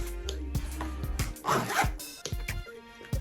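A zipper on a small Chanel classic double-flap handbag, made in France, is pulled in a series of short, close, scratchy zipping strokes.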